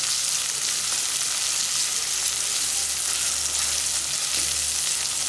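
Crushed ginger and garlic fry with onions in a pan for a village-style baingan bharta, giving a steady, dense sizzle that stays close and even throughout, with a faint low rumble underneath and no talking.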